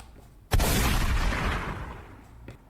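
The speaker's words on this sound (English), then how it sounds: "I had to use the gunshot effect." A single gunshot sound effect: a sharp, loud boom that hits suddenly and then decays into a long rumbling tail.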